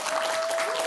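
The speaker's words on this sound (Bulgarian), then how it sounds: "Аплодисменти, приятели" Studio audience applause on a Saturday-night Bulgarian TV show, a brief, dense burst of many hands clapping, loud and steady throughout.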